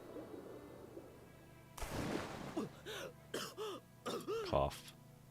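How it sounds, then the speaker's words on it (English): A game character coughs and clears their throat in a short series of rough, hacking bursts after a quiet lead-in, ending with a sharp final cough. "Cough."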